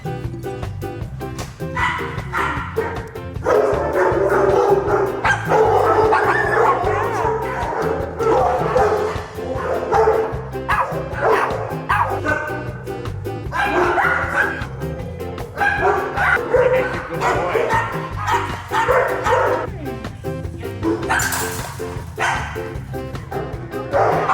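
Several shelter dogs bark and yip close by, a busy overlapping chorus of sharp barks, high yelps and whimpers that carries on throughout with only brief lulls.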